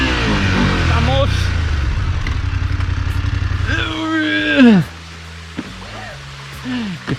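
A motorcycle on a steep mountain track in the Sierra Nevada de Santa Marta, Colombia, throbs loudly as the engine revs hard, surges, then drops to a rough idle, with a voice briefly heard over it.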